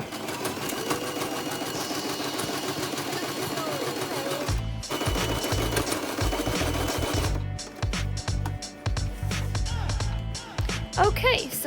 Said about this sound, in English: I'm just gonna sew that seam clean on each of the sleeves.